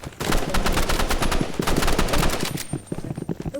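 Sniper rifle fire rings out in a video game, loud and dense, with rapid repeated gunshot cracks layered over one another, nearly continuous, then thinning slightly near the end, with no speech.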